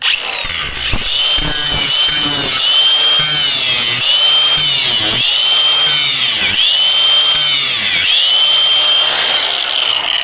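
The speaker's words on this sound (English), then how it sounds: "take a grinder and just bump the little sharp edges" An angle grinder runs continuously on packer slips, bumping their sharp edges with a steady, loud high-pitched whine that dips briefly each time the disc bites the metal, with no talking.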